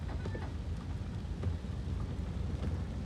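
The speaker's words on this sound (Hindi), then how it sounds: "बारिश भी हो रही" Steady rain falls outdoors on a hillside with banana plants near Lonavala, a dense, continuous wash with low rumbling underneath, no voices.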